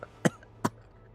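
Two short, sharp coughs spaced about half a second apart, dry and close, standing alone against a quiet background as a sound effect in a sci-fi horror audio story.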